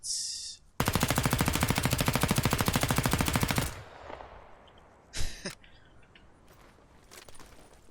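A long, rapid burst of automatic submachine gun fire in Rising Storm 2: Vietnam for about three seconds, then a single loud shot and a few fainter clicks.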